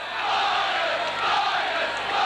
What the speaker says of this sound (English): Another good crowd here